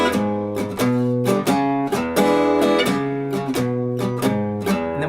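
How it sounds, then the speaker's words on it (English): Acoustic guitar playing a blues shuffle pattern in E, a bouncy, evenly repeated strummed rhythm of bass-note walk-ups and back down, close and clear with no voices. "So all together it's going to sound like this"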